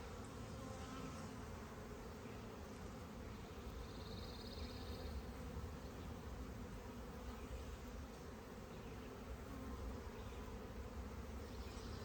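Dense, continuous buzzing of many honey bees swarming close around an open hive, a steady droning hum with no breaks.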